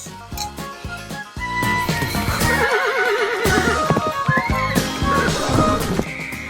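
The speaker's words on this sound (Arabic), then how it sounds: "الحصان اللي انت عنده جوه ده حصان عربي" An Arabian horse on a horse farm neighs and whinnies loudly and close by, with several long, wavering calls and some hoof clip-clop and stable noise around them, no talk.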